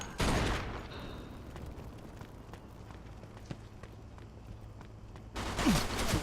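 Machine gun fire in the Mafia 2 video game: a heavy burst of rapid shots opens, scattered single shots and impacts crackle through a steady rumble, then a second loud sustained burst closes.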